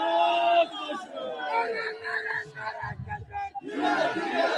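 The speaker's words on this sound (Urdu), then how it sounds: "اس لیے ہم کیا نعرے سن رہے ہیں، پھر سے سنتے ہیں" A crowd of voices chants political slogans about Kashmir, shouting in rhythmic bursts with a brief lull and low rumble before the chanting surges back, loud and close.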